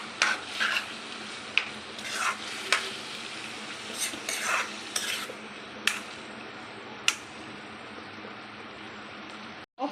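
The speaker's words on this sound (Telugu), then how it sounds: "హై ఫ్లేమ్లో పెట్టుకొని బాగా ఫ్రై చేసుకోవాలండి" Mutton keema frying in a pan on a high flame: a steady close sizzle broken by repeated sharp scrapes and knocks of a spoon stirring against the pan, with no talking.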